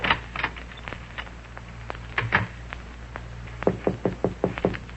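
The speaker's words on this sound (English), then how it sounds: "Now, go out and knock." Knocking on a wooden house door in an old radio comedy set: a few scattered raps, then a louder burst of rapid knocks near the end, close and clear over faint background hiss.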